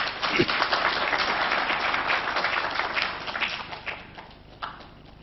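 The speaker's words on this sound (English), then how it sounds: "I would like us to give them a round of applause, please." Audience applause for the caterers at an inaugural professorial address: dense, steady clapping from a large hall that holds for several seconds, then thins and fades toward the end.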